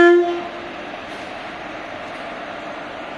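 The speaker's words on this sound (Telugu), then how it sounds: "ఇది ఇప్పుడు మనం వచ్చిన ట్రైన్." A train horn blasts loudly for a moment at the start inside Vijayawada railway station, then gives way to a steady low rumble of the train and station noise with no talk.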